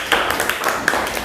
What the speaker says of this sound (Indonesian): Tepuk tangan untuk Aira.